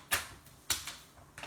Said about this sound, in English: I am going to cut this where the adhesive is on the envelope.